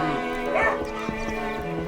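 Dog in the video game Inquisitor barking in a few short yips and woofs over game ambience, with talk running alongside.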